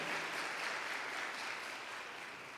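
Audience applause fills a church hall during a talk, a steady dense wash of clapping that stays loud throughout and tapers only slightly at the end, with no voices over it.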